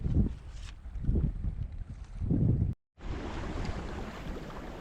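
Wind rushes steadily past a sailing boat on open water, gusting in surges before a brief cutout and then a constant roar from the microphone being buffeted.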